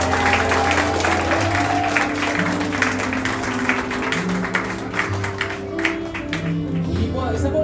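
Guests at a wedding reception applaud the newlyweds, a steady wash of clapping that runs throughout over sustained music and voices.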